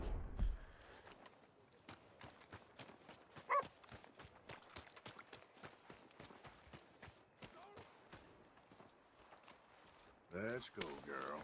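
Horse hooves in Red Dead Redemption 2, a long run of sharp, evenly spaced clops that are quiet and near, ending in a brief louder burst of noise.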